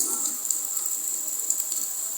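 Steady rain falls during a flood in Fatehpur, a continuous hissy wash of drops close by with faint patter on a wet tyre, constant and even throughout.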